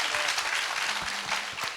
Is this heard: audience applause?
yes